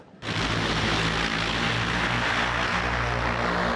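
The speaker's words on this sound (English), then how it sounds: "This is going to be a prototype for the world's first ever flying car." Prototype flying car with drone-like propellers, the XPENG X2, starting up abruptly after a brief quiet moment into a loud, steady, dense propeller roar that holds without a break and with no voices.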